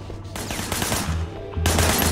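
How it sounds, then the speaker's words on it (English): Rapid bursts of gunfire from a shooter in the video game Sleeping Dogs, loud and dense, crackling shots volleying over roughly two seconds with a brief lull before a heavier final burst. "Shooting at the guys over there."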